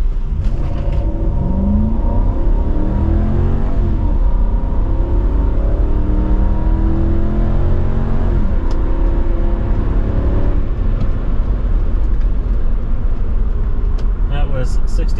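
A 2007 Toyota Land Cruiser pulls away from a near standstill, its engine rising smoothly through gear changes with a strong, close road roar, while someone talks over the drive.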